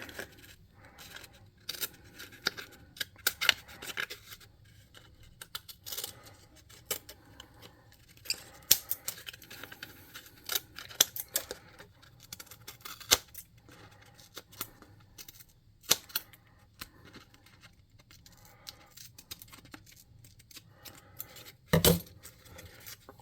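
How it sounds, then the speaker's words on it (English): Scissors cut around a craft piece for a tabletop goblin airship model, with dozens of sharp snips and clicks in an uneven rhythm and no voices. "Those scissors ain't cutting shit."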